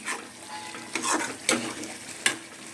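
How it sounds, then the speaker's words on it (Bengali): Chicken curry with ground coriander stirred and fried in a pan, a soft steady sizzle broken by a few sharp scraping strokes of the spoon, close and alone without talk. "আমি ধনের গুঁড়ো দিয়ে আমি কষছি"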